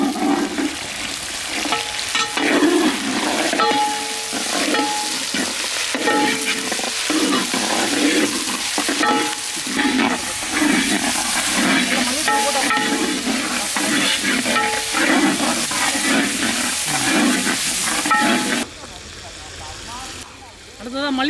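Onion and tomato frying and being stirred in a pan for a large marlin fish head gravy, a steady loud sizzle broken by repeated scraping stir strokes, with no voices, ending in a quieter stretch.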